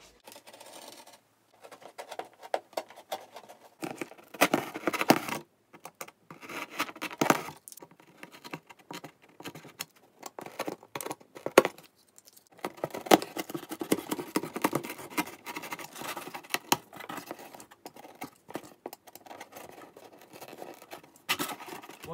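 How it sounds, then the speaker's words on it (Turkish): Scissors or a blade cutting a coin slot into a paper money box, giving a close, irregular run of crisp snipping and crinkling paper sounds in bursts, with no talk. "Burayı şimdi kesiyorum."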